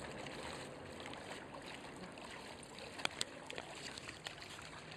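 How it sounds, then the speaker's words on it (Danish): A Rottweiler at a water spring, with steady rushing water throughout and a few brief, sharp splashes standing out near the middle of the clip. "han sprøjter lidt med vandet her"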